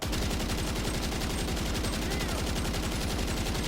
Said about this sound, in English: We fired a good chunk of the mag and all stayed really within this that circle there.